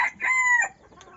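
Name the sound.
rooster crowing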